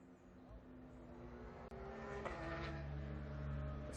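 Race cars in a sprint race drone past with a steady engine whine and one engine note rising in pitch, at a moderate distance, while a commentator talks over them.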